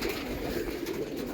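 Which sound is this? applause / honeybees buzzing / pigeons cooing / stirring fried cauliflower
pigeons cooing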